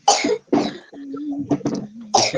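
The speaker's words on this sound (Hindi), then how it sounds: "किसको हो रही है इतनी खांसी?" Several harsh coughs and a throat-clearing come over a microphone during an online class. They are close and loud, with a short gap between the first coughs and a final burst.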